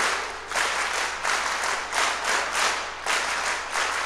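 Audience applause at a college event, continuous crowd clapping rising and falling in several swells, loud and close with no talking over it.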